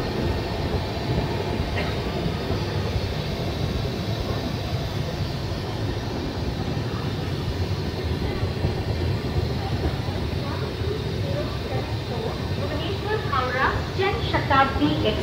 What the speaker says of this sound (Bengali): আর আমাদের ট্রেন কটক স্টেশন এন্টার করছে